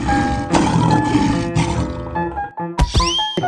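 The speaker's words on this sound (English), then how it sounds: "Lion." A lion roars in a children's animal song, a sustained loud growling roar over music that drops out and ends in a burst of splashy effects.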